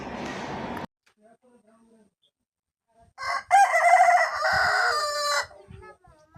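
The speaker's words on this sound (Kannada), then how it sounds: "ಈಗ ಮುಂದೆ ಹುಂಜು ಕೂಗ್ತೈತಿ ನೋಡ್ರಿ, ಅದ್ರ ಹುಂಜಿನ ಕೂಗ ಕೇಳ್ರಿ" A rooster crows once, loud and close, a long drawn-out call after a short burst of talk and a brief quiet pause.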